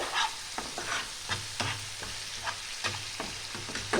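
Spices with turmeric and dry chilli being sautéed in a pan over medium-low flame, a soft steady sizzle broken by repeated scraping stirs at a loose, regular rhythm, close and fairly quiet.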